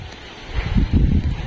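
Gusty wind from Typhoon Leon buffets the microphone in low rumbling bursts at a school vegetable garden, building after a quieter start, with faint rustling noise throughout.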